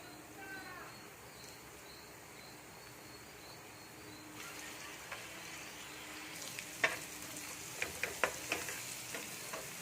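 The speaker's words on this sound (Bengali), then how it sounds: "দেখুন আমি কীভাবে ভাজছি একদম এরকমভাবে একদম শুকনো শুকনো করে একদম ভেজে নিতে হবে" Egg filling for puri, beaten eggs with chilli and coriander, frying and being stirred dry in a pan: a steady close sizzle with scraping stir strokes that grow sharper and more frequent toward the end.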